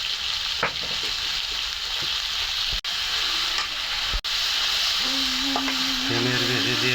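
Tangra fish frying with bean seeds in a pan gives a loud, continuous sizzle close up, with a few brief clicks of stirring and a faint tonal hum near the end; no one speaks.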